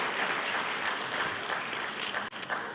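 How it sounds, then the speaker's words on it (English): Loud, sustained applause from a conference audience at an international dialogue event in Yerevan, dense clapping from many hands close by. "please join me in applauding David for his wonderful efforts"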